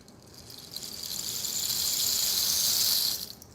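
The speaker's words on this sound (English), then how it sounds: "this is my rain stick" A steady, bright rush of tiny beads sliding through a rain stick tilted slowly, swelling gradually and holding for a few seconds before cutting off, with no voices.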